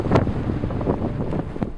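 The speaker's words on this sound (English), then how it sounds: "the wind certainly knocks you around quite a bit" Strong, steady wind roars and buffets a microphone high on Mount Makalu, an 8000-metre Himalayan peak, in a dense rushing wash with gusty swells and no voices.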